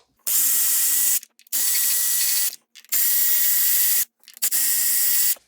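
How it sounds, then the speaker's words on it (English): A ratchet spins out Torx bolts from the valve cover of a 2016 BMW M235i's 3.0 L turbo N55 engine: four loud, close bursts of rapid clicking, each about a second long, separated by short pauses. "So we're gonna remove all of the TORX bolts."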